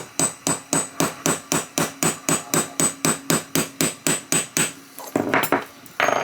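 A hammer strikes metal in a steady, even rhythm, about a dozen sharp taps in a row, followed by a few quicker, scrappier knocks.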